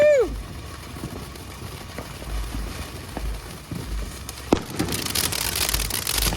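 A Star Chaser firework fountain burns in a backyard with a soft, steady fizzing hiss that swells into a brighter crackling spray in the last couple of seconds.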